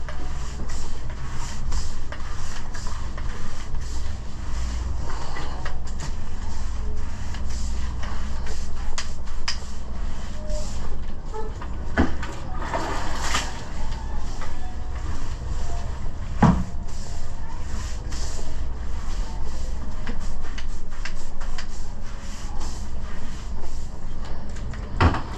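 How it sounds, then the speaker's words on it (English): Teak wood coated with wood soap is scrubbed with light pressure, giving a steady, close rubbing and brushing texture with occasional knocks, alone without talk. "I'm then going to start scrubbing."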